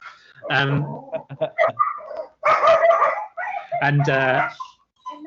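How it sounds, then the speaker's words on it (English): A dog barks in short bursts at close range, mixed in with people talking over it. "There's the dog."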